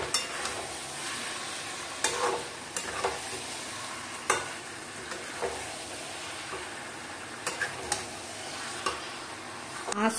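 Pieces of country chicken and potato are stir-fried in a pan, cooking down in their own juices. A steady, moderate sizzle runs throughout, broken by sharp clatters of a spatula scraping and stirring at irregular intervals.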